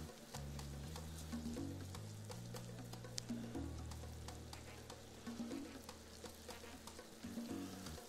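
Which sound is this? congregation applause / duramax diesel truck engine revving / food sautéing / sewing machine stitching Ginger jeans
food sautéing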